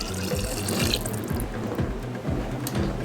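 Tap water runs steadily into a sink or container as half a cup of water is measured for a blended vegan cashew sauce for nachos, a close, continuous pouring splash with no talking.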